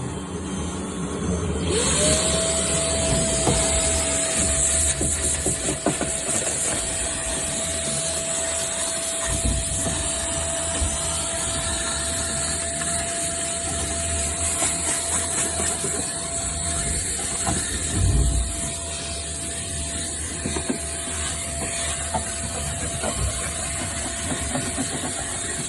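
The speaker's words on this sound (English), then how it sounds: "Hoover it all up." A wet vacuum hoses mud out of a Sunbeam Rapier Fastback H120, giving a steady loud roaring suction with a sustained whine and occasional gurgling slurps as debris is drawn in.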